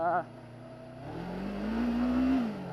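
A motorbike on the sand of Crescent Beach, its engine droning steadily and rising in pitch as it accelerates, with someone talking briefly at the start.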